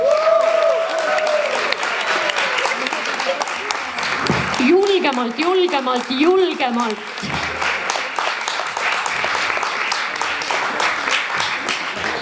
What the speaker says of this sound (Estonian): nüüd palun aplaus sellele mehele, kes tuleb küsimusi esitama